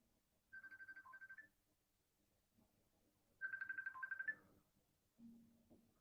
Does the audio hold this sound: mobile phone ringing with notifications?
yes